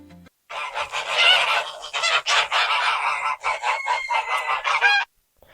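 Loud goose honking fills the clip, a busy overlapping series of harsh, nasal calls from a pair of domestic geese close by, with no talking.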